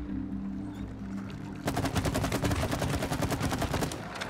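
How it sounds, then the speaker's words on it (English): Rapid gunfire rattles in the co-op game It Takes Two, a dense burst of repeated shots starting partway in and continuing to the end. "Why did you shoot it right away?"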